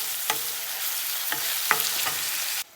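Onions, green chilli and garlic fry in a pan for paneer masala, hissing in a steady close sizzle, broken by a few sharp scraping stirs of a spatula before it cuts off abruptly.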